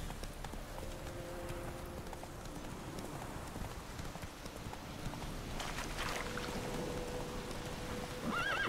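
Roach, the horse in The Witcher 3, gallops with a steady clip-clop of hooves under rain and game ambience, moderately loud and continuous, with a brief whinny near the end.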